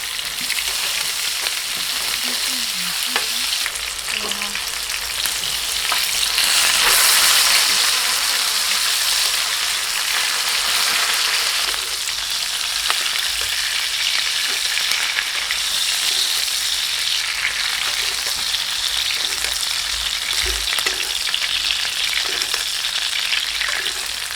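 Korean beef steak searing in melted butter in a hot pan: loud, dense, continuous crackling sizzle with spattering pops, close and steady throughout, no voices.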